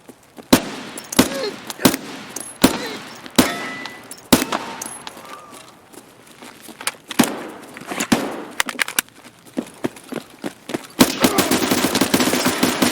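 Rapid bursts of automatic gunfire in Escape from Tarkov, sharp cracks repeating in clusters, then a dense sustained volley near the end, loud and close with some faint background clatter.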